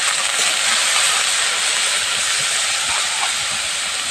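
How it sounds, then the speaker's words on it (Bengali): Prawns fry in hot oil with a loud, steady, close sizzling hiss that barely changes over a few seconds. No one speaks. "এর মধ্যে এবারে দিয়ে দেবো চিংড়ি মাছ আমি ভালোভাবে চিংড়ি মাছগুলোকে ভেজে নেব"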